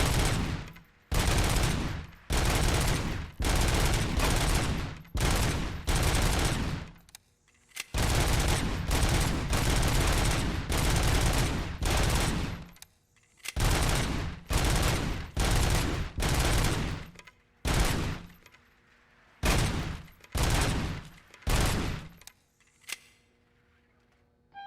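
Automatic gunfire in a Robocop video game, loud repeated sustained bursts broken by brief pauses, steady rattling volleys close up, with no talk over them.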